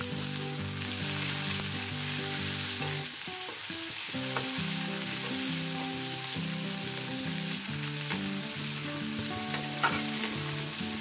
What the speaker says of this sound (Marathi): मी हे मंद गॅसवरच परतून घेत आहे।